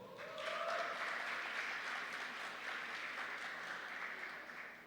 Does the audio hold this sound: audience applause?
yes